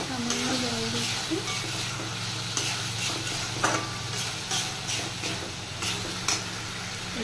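Food being sautéed with a splash of water sizzles and hisses steadily up close, with stirring clicks and scrapes against the pan and a brief voice near the start.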